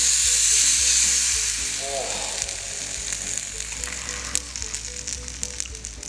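A violent chemical reaction hisses and sizzles loudly during a periodic table demonstration. The sound starts as a bright, dense hiss, then settles into a rougher, crackling fizz.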